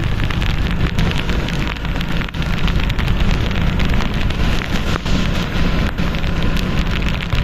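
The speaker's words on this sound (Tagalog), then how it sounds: "Umuulan, medyo makalakas na kunti." Loud, dense typhoon rain pours steadily on a road, a constant close hiss of drops hitting surfaces with no gaps or voices.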